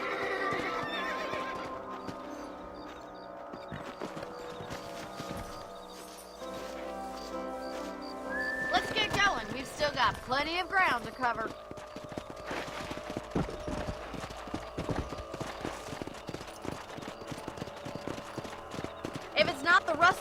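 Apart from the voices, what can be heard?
horses neighing and trotting in video game Red Dead Redemption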